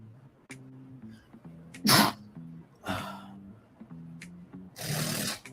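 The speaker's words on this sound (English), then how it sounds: "Those sneezes get harder when you get older." Two or three sharp sneezes burst out in turn, loud and close, with a low steady hum running underneath.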